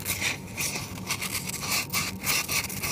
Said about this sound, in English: sandpaper that I use only to get some surface oxidation off and potentially some rust